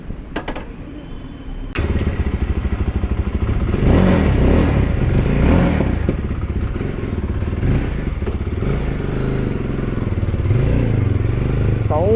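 A Jawa 42 FJ motorcycle engine fires up and runs with a loud, rumbling idle and occasional revs, close by, for several seconds.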